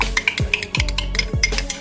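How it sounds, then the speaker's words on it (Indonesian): Duck egg mixture is whisked by hand in a bowl, a fast regular clatter of taps about three or four per second, close and fairly loud, with no talking. "Oke, kita kocok terus."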